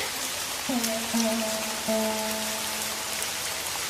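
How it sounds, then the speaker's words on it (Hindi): Heavy rain pours down in a steady, dense hiss, with a faint tonal hum running through it and no voices. "आज तो बारिश ने जम के कहर ढाया है।"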